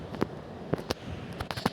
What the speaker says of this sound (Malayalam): ഇവിടെ ഫുള്ള് വെടിയാണല്ലോ